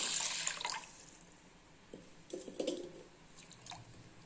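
Water trickles and splashes into a bowl of washed rice for soaking, in short uneven bursts with drips between pours, close and fairly quiet.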